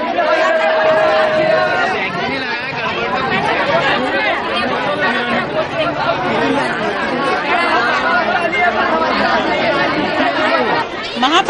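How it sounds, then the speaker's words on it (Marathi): A dense crowd of citizens chatters at a crowded municipal certificate centre, overlapping voices forming a steady, loud babble throughout with no single voice standing out. "त्या त्या केंद्रांवर नागरिकांनी गर्दी केल्याने व कोणतीही शिस्त न पाळल्याने गोंधळ माजला"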